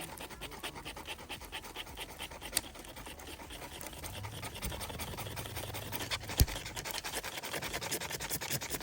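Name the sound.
scraping a magnesium fire starter with a scraper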